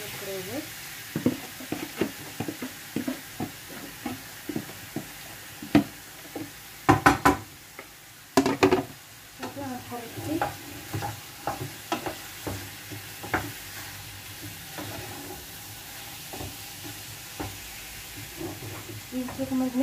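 Fish sizzles and fries in a pan for fish pastilla, a constant hiss broken by repeated stirring knocks and scrapes of a utensil against the pan, with a voice talking over it.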